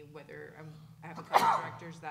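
A person is talking, then a sudden loud sneeze bursts out close by, followed by more speech.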